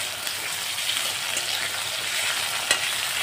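Tomatoes sizzle in hot oil while being stirred around the pan, a steady close hiss with light scraping and one sharp knock near the end; no speech.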